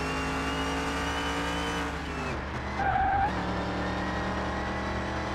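A Dodge Charger in Car Mechanic Simulator 2021 holds a line-lock burnout with a loud, steady engine drone, briefly dips with a tire squeal, then revs back up for the launch. No voices.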